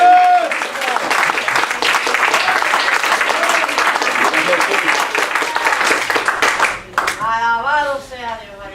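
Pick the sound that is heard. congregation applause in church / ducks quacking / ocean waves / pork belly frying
congregation applause in church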